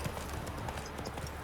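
Hooves of Roach, a horse in a video game, clip-clop in a quick galloping rhythm, close and clear, over a short stretch with no talk.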